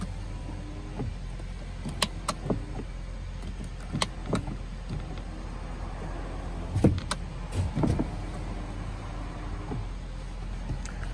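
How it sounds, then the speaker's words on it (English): Power window motor of a 2012 Hyundai Sonata Hybrid driver's door, heard close up as several short whirring runs of the glass moving up and down, separated by pauses and light clicks inside a quiet car. "The driver's side window is only automatic."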